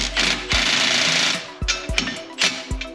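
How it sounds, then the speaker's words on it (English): Ratcheting and clanking of a 27mm socket tightening a castellated nut on a ball joint of a 1994-2004 Ford Mustang, a steady mechanical whir with several sharp metallic knocks spaced through, close and fairly loud. "I need a 27mm socket for this smooth ball joint, so I'm going to get this on here nice and tight."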